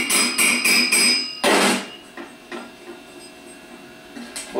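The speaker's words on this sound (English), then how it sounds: "tapping the bushing down into the shaft, tap around on the outer edges of the end plate" A hammer taps a bushing into a 5MT starter end plate in close metallic strikes, first a quick run of several taps, then one heavy hit followed by sparse, lighter taps and a final blow.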